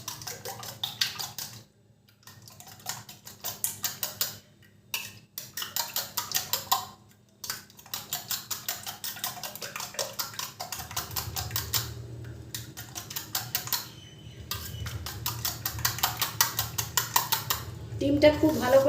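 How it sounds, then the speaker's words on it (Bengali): Eggs whisked hard with a pinch of salt and a little dry red chili powder, a fast, steady clatter of utensil against bowl in repeated bursts with brief pauses, close and clear. "দিয়ে ডিমটাকে খুব ভালো করে আমি ফেটিয়ে নেব।"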